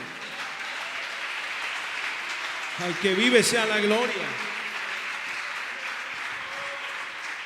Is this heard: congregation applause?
yes